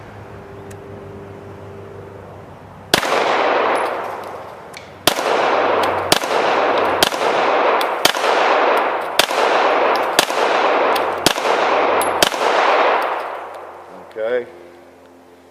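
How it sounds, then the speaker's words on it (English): About a dozen loud pistol shots ring out at a shooting range target, one sharp crack followed by echoing decay at a time, at a steady, fairly quick pace after a quiet start, with a brief voice at the end. "Let's take a few shots at it."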